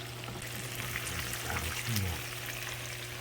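Chicken cutlets fry in a pan with a steady, fairly close sizzle and crackle, and a brief scraping stir near the middle.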